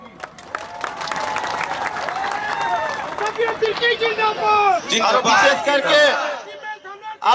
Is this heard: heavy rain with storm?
no